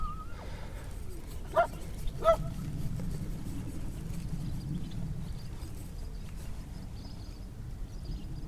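Outdoors in open countryside, a dog gives two sharp barks in quick succession early on, then only a low, steady ambient rumble continues.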